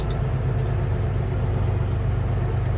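An automatic car's engine lugs in too high a gear, giving a heavy, low droning rumble that stays constant and close throughout.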